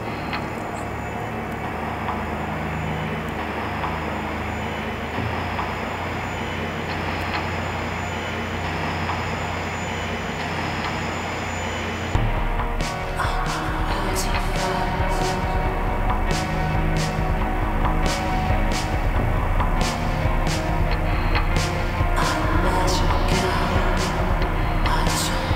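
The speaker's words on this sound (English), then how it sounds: "they recorded the metal and the trains going by and used them on their track" Trains passing over a clanking metal bridge: a steady heavy rumble fills the first half, then the roar deepens and sharp metallic clanks and knocks repeat irregularly until the end.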